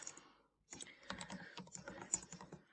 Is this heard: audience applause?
no